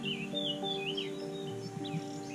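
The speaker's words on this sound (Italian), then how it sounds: "e senza neanche il rumore del pagaiate si sente gli uccellini" Small birds chirp and sing along the bank of the Adda river, heard from a drifting kayak. Their thin, quick twittering calls run steadily over a low, constant background hum.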